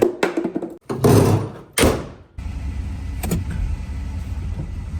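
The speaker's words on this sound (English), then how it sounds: "It's amazing how similar to a slant 6 the stock 273 exhaust sounds." A 1964 Dodge Dart GT with a stock 273 V8 starts with a few knocks and a door clunk, then settles into a steady low exhaust rumble that holds at moderate level close by.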